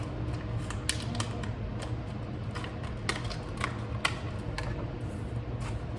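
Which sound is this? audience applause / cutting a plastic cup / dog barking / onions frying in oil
cutting a plastic cup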